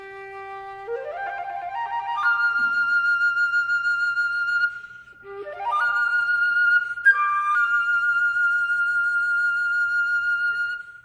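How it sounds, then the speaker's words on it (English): Two rising flute phrases, each sweeping quickly upward into a long held high note with vibrato, played up close in a quiet room without any speech. "Vibrato is used everywhere among flute players, and it is essential to modern day flute playing."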